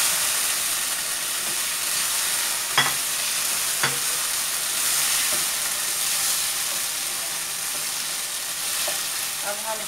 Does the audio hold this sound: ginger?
yes